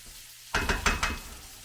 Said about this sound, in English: But cooking bacon is one of my favorite things.